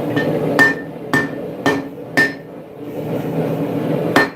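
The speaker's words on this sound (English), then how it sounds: "So the final method of straightening is using a wooden hammer." A wooden hammer strikes a steel Bowie knife blade to straighten it: five or six sharp, ringing blows at a steady rhythm, then a pause and one last hit, close over faint background noise.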